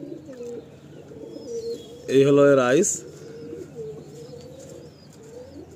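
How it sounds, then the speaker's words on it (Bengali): Kalsira pigeons in a loft coo softly throughout, with one louder burst in the middle, while someone talks over them. "প্রচণ্ড অ্যাক্টিভ পায়রা।"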